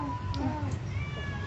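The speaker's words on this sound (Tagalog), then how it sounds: "May pusa dito." A cat gives a short, faint meow amid a low hum and nearby people chatting.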